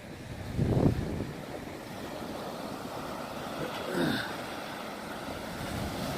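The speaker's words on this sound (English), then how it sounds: "there's waves crashing out here, throwing spray up on the boardwalk" Lake waves break along the Indiana Dunes boardwalk with steady wind-blown surf noise, one heavier crash early and another swell a few seconds later, both fairly close.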